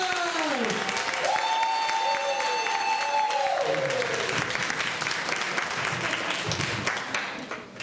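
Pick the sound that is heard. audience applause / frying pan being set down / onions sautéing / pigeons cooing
audience applause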